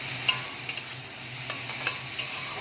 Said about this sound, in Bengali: এবার আমি টমেটোটাকে কেটে রেখেছিলাম, সেই টমেটোটা কুচিটাকে দিয়ে একটু নাড়ব।